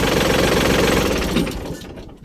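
A used Kubota L3608 tractor engine runs steadily and loudly up close, a dense continuous mechanical drone that fades somewhat toward the end.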